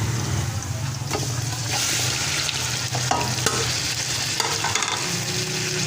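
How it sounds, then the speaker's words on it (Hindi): About a kilo of chicken pieces frying with onions in a pot, a loud steady sizzle with scraping stirs and occasional clinks of a spoon throughout. "अब इसमें हम चिकन डालेंगे।"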